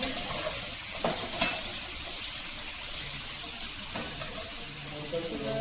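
Chopped onions and green chillies fry in a pan with a steady, close sizzle, broken by a few sharp scraping stirs of a spatula against the pan.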